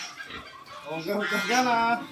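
Loud honking and gabbling calls from geese up close, rising in a rough, harsh burst with no talking.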